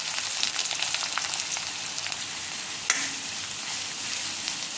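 Chopped onion, garlic and finely cut green chilli sauté with mustard seeds in a hot pan, making a continuous, even frying hiss at moderate level with one brief clink partway through.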